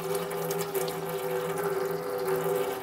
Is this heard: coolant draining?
yes